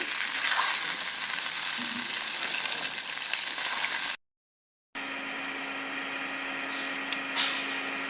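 Singhi fish fried in oil in an iron wok gives a steady, dense sizzle over the first half; after a brief gap a quieter, even frying hiss continues with a faint steady hum.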